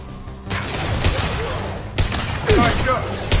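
Gunfire in Mass Effect 2 combat, a few sharp shots and impacts over constant battle noise, with spoken lines.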